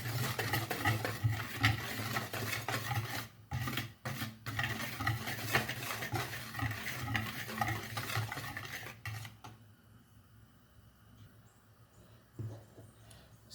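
Flour and half a teaspoon of salt are stirred in a bowl for corned beef pie dough, a steady close scraping and clinking of utensil against the bowl that continues for about nine seconds before fading to quiet.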